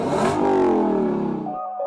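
A Lexus LC500 engine revs up sharply to a loud, rising roar, holds, then drops off abruptly, heard close and alone.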